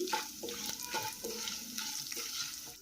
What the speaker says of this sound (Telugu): వీటిని వేయించుకోవాలి శనగపప్పు లైట్గా కలర్ వచ్చేంత వరకు వేయించుకోవాలి